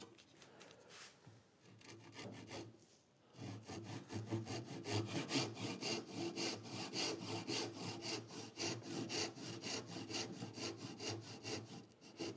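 A hand saw cuts wood for a dovetail template, producing close, rhythmic rasping strokes back and forth that run steadily after a short pause near the start, fairly quiet with no speech.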